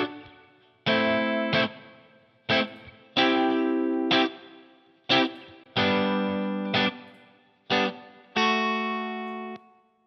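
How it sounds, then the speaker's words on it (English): Electric guitar run through Line 6 Helix amp simulation, chugging distorted power chords in punchy stop-start bursts with short sustains and gaps between, up close and alone. "when I unsolo that, you'll hear the Helix version."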